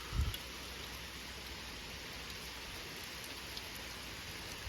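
Hail mixed with rain falls steadily onto a surface as a soft, even patter and hiss, fairly faint and unbroken, with one brief low thump near the start and no voices.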